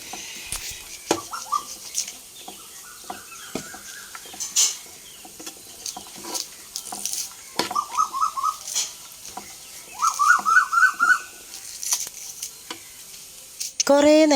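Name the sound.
sautéing tomato masala in a pan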